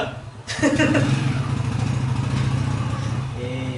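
A tractor engine idles nearby with a steady low rumble that runs under voices in a classroom setting.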